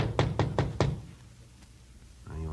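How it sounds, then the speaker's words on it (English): Four quick, close knocks rap on a door on the fourth floor in a police radio drama, followed by a pause and then a voice. "went up to the 4th floor and knocked at the door."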